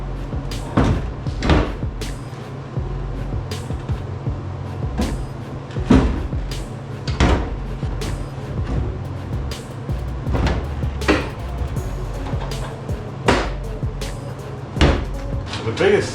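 Sagging suicide door on a 1951 Ford rat rod being worked, with repeated sharp metallic clunks and knocks at irregular intervals over a steady low hum.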